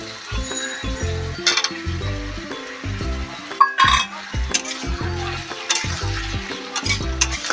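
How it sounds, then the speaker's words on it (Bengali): Onion and capsicum hit a hot pan for chow mein, with a rhythmic run of clatters and scraping stirs over a low sizzle, close and moderately loud throughout. "হালকা সেদ্ধ হয়ে আসাতে আমরা এবার পেঁয়াজ আর ক্যাপসিকামগুলো তুলে দেবো।"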